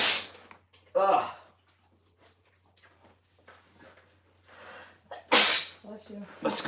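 Two sharp sneezes burst out close to the microphone, one early and a louder one near the end, with quiet shuffling and soft talking between them.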